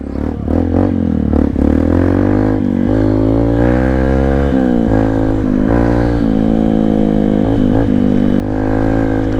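A motorcycle with a Honda Dio engine revs loudly and close, its pitch rising and falling through several throttle blips, with some clattering underneath.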